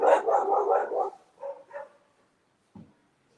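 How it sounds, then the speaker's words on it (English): Dogs at a house barking in a quick burst of several close, loud barks, then two softer single barks and a faint last yip after a pause. "but they bark at her a lot"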